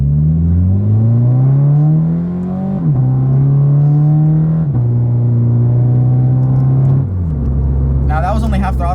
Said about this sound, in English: the stock tune will actually allow you to pop mid-shift